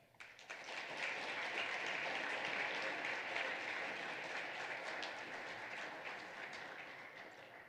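Sustained, dense applause from a student assembly audience congratulating inductees, a steady wash of many hands clapping at moderate distance that holds for several seconds before easing slightly.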